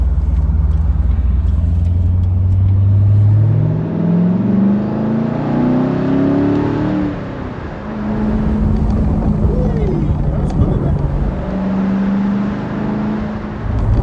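Chevrolet Corvette C7 V8 on a track, loud and near, climbing through revs in a rising sweep, shifting, then pulling again with a steady drone; someone talks briefly over the engine.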